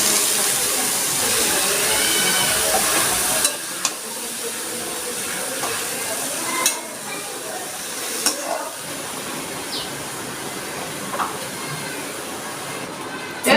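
Washed, still-damp snake gourd drops into a hot pan and sizzles loudly, settling into a steady frying hiss with occasional stirring clinks and scrapes.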